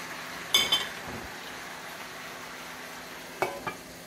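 Pork chops and potatoes cook in a covered skillet. A faint, steady low sizzle runs throughout, broken by two short clusters of sharp metallic clinks early and late, with no voices.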